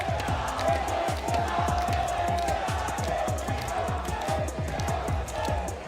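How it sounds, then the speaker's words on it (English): A rowdy crowd cheers and shouts continuously, with dense overlapping voices and rhythmic rising chants throughout. "Oh, we got a rowdy crowd today."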